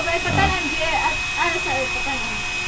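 A blower runs with a steady, loud whooshing drone while people prepare for a campus pictorial at BISU Candijay, and voices talk faintly over the constant air noise.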